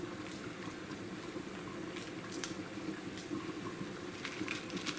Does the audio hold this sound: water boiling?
yes